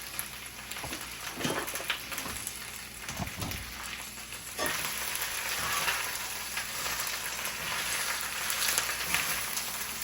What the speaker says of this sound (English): And cook the spinach down until it is wilted